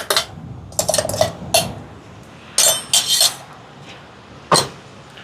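A utensil scraping and clinking against a metal pot while curry is mixed, in several short bursts of clatter separated by quiet pauses.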